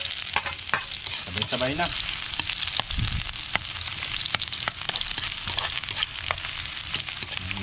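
Garlic and ginger sautéing in a pan with oyster sauce and wild dove meat, a steady broadband sizzle with scraping stir strokes throughout and a brief low thump near the middle.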